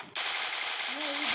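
Continuous gunfire in a shooting video game, a loud sustained rattle of rapid shots from up close, with faint tonal game sounds rising near the end.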